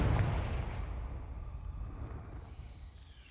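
A Confringo fire spell blasts in Hogwarts Legacy, one sharp explosive burst at the start that decays into a fading rumble, fairly quiet overall.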